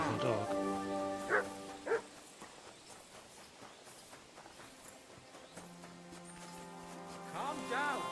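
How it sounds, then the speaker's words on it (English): A dog barks a few times in Kingdom Come: Deliverance 2, with sharp mid-distance yelps amid game ambience, footsteps and possible hooves, and a voice speaking over parts of it. "Beautiful dog."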